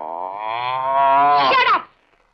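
A single long, loud buffalo moo, close by, rising in pitch and strength before breaking off sharply, then near silence.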